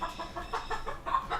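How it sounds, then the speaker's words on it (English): Chickens cluck in a quick repeated rhythm, faint and somewhat distant, a series of short pulsing calls with no talk over them. "Sorry about the chicken noises and stuff."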